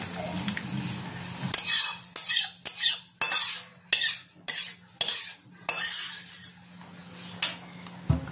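Prawn malai curry finished with ghee and shahi garam masala being spooned into a serving dish, a string of sharp metal-on-metal scrapes and clinks of a ladle against the pan, close and fairly loud, with no talking.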